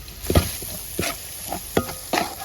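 Onion, shallot and garlic frying in oil for a tuna roast are stirred with a spoon, giving four or five distinct scraping strokes over a continuous close sizzle.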